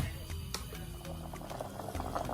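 Water bubbles and churns steadily in a pot at a rolling boil for palm nut soup with goat meat, a continuous dense gurgle with small pops, close by.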